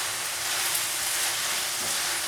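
Rice and noodles fry in a hot pan with soy sauce, with barbecue pork and hot links nearby, making a steady, loud, dense sizzle that runs unbroken and close, with no voices.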